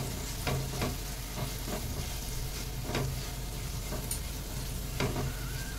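Ground cumin, coriander and chilli powder stirred into a frying pan for a rohu fish bharta, with a steady background sizzle broken by several scraping stirs of a spoon across the pan.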